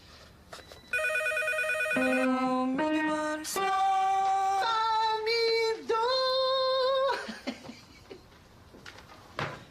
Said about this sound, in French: puis le téléphone qui arrête pas de sonner.